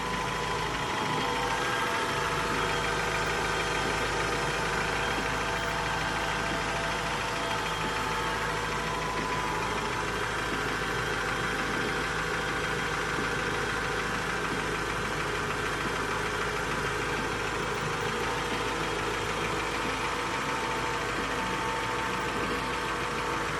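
A 1994 Honda Accord with a surging idle problem runs at idle, a steady close engine drone with a persistent low rumble and faint mechanical ticking, no voices.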